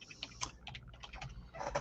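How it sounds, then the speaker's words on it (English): Quiet, steady tapping of keys on a computer keyboard, a rapid irregular patter of light clicks heard close up with no talking. "When Tommy gets done typing here"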